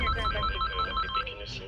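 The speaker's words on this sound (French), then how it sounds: "le téléphone sonne en continu" A telephone rings at the operational command post of the GPIS security agents: a short, bright electronic ring, moderately quiet, with faint background murmur.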